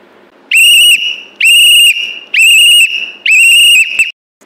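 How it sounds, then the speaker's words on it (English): Four short, shrill blasts of a pea whistle give the Scouts and Guides run-fast-and-come signal. They are loud and close and evenly spaced about a second apart over faint background hiss. "Small continuous whistles mean run fast and come."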